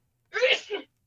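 A single sneeze from someone on a voice chat during a live stream, short and sharp, heard alone and fairly close, followed by a brief clipped sound.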